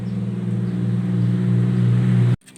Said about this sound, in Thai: เดี๋ยวผมประกอบแล้วก็เดี๋ยวลองติดเครื่องดูกัน